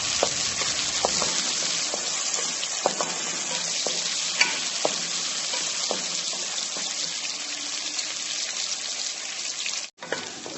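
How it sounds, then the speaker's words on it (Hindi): Chopped onion and green garlic fry in a hot pan for an Indian aloo palak dish, a steady close sizzle broken by repeated stirring scrapes, with a brief dropout near the end. "हरे लहसुन को भी थोड़ा सा फ्राई कर लेंगे।"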